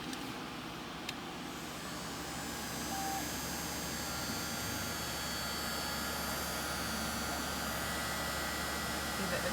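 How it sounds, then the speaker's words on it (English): Hot air gun shrinking heat-shrink tubing during soldering, a steady broadband blowing hiss with a low hum that holds throughout, close and moderately loud. "Apply my hot air."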